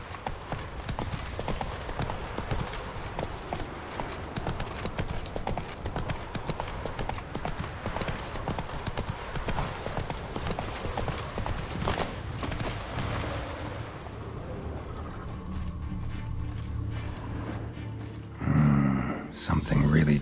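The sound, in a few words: horse galloping, from video game The Witcher 3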